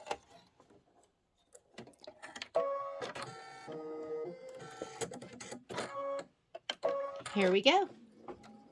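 An embroidery machine stitches a quilted Halloween pillow block, its rapid mechanical needle chatter running in bursts close by, with a voice speaking briefly at the start.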